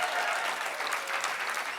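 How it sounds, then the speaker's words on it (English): Steady, dense audience applause at a Moth Story Slam storytelling night in Boston, a full crowd clapping evenly and fairly close for under two seconds with no voices over it. "You want to do like one huge round of applause to just get this thing going?"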